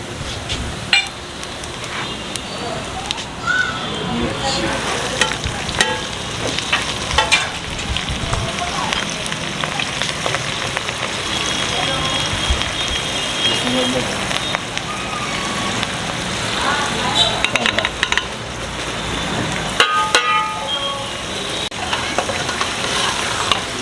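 Masoor lentils and cumin fry in a pan with a continuous, dense crackling sizzle, mixed with scraping stirs and scattered sharp pops.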